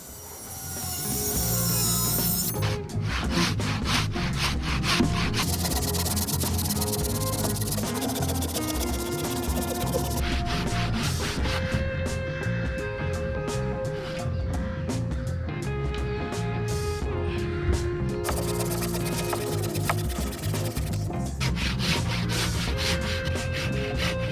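Repeated back-and-forth strokes of a hand saw finishing a cut through thick wooden gate posts, steady and close, with brief pauses between runs.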